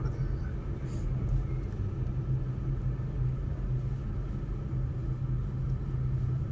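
Steady low engine rumble fills a car cabin during a driving lesson, a constant droning hum with no clear revving, fairly quiet and continuous throughout.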